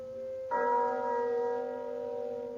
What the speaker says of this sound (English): 1:15.